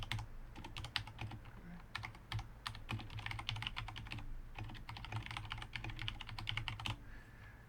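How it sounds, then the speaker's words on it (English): Typing on an Akko 3084SP Ocean Star mechanical keyboard with powdery PBT keycaps: a steady, close stream of clacky keystrokes with uneven rhythm and occasional heavier hits, running alone throughout. "There's Notepad, alright, and we'll do some typing."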